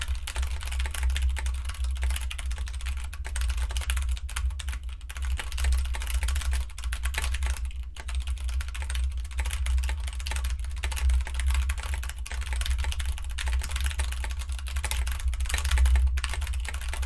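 Fast, dense keyboard typing during a Nitro Type speed race at over 155 words per minute, a steady continuous rattle of keystrokes with no speech.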